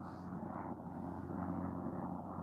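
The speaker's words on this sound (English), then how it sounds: "Helicopter flying over my head, distracting my brain a little bit." A helicopter passes overhead outdoors, giving a steady, fairly loud rotor and engine drone that holds evenly throughout with no speech.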